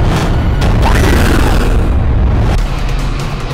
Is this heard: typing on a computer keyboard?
no